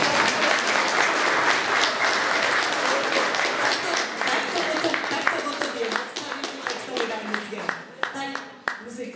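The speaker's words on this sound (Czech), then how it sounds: "už jste zatleskali jednu a můžete ještě jednu" Audience applause after a pre-Christmas school music performance for seniors in Hluk: dense sustained clapping from a crowd that gradually thins into scattered individual claps, with some voices in the background.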